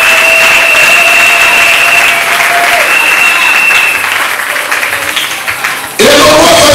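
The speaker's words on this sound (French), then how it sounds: "acclamez le Seigneur" A church congregation bursts into loud, sustained applause and acclaim for the Lord, a dense wash of clapping with a sustained tone over it, briefly thinning before surging back even louder near the end.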